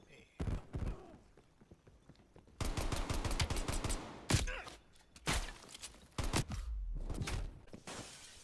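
Pistol gunfire from the Call of Duty: Black Ops Cold War gun game mode, with sharp repeated shots in uneven bursts, some fired in rapid succession, mixed with game impacts and clatter.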